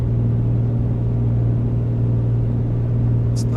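A light aircraft engine in Flight Simulator 2024 runs at a steady climb power of about 2,300 RPM, a loud, even droning hum with no change in pitch.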